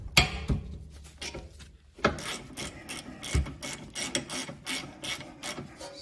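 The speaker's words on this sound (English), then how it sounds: "So first you can crack these 14 millimeter bolts loose" Wrench cracking loose 14 mm rear brake caliper bolts on a Lexus RX, heard as close metallic clicks, scrapes and rubbing thuds in an irregular, busy sequence with no talking.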